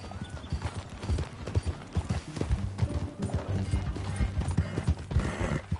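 Hooves of a horse clip-clop at a walk on a ranch, an uneven run of close, moderately loud hoofbeats with faint background noise and no voices.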